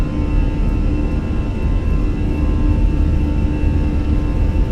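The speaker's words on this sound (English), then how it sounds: "Takeoff power set." Airbus A320 engines at takeoff power in a flight simulator roar as a steady, loud broadband rumble with a faint whining tone on top, continuous and unbroken, with no talking over it.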